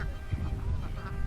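Farm ducks being showered with water give short honking quacks over a soft wash of background noise, a few close calls within a brief moment.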